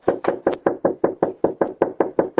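A series of about twelve sharp, evenly spaced knocks on a residential door, loud and close, recorded by a Ring doorbell camera as an angry customer pounds away after a food delivery dispute.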